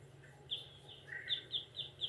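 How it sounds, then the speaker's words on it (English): Faint bird chirps repeat in short bursts, a quick series of high tweets in the distance over a low steady background hum. "I'm hearing the birds."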